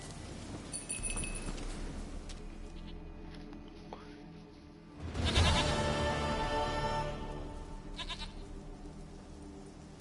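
A goat in the video game Witcher 3 bleats in several drawn-out cries, close and fairly loud over a steady game ambience.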